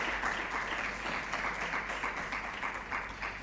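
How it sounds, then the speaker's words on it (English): An audience claps for the winner at a university oratory contest grand finale, a continuous broad wash of many hands at moderate level, dense and steady for the full stretch. "Please give her a big round of applause."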